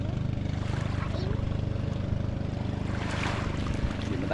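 Fishing boats out at sea, heard as a steady low engine drone mixed with wind and the wash of waves, continuous and fairly loud throughout.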